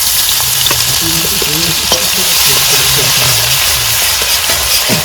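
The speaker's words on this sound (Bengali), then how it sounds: "তেল গরম হয়ে গেছে এবার ফোড়ন দিয়ে দেবো শুকনো লঙ্কা তেজপাতা এবার দেবো আদা কুচি" Dry red chillies, bay leaf and chopped ginger hit hot oil for khichuri, a loud close continuous sizzle and crackle with stirring scrapes, while a voice murmurs faintly underneath.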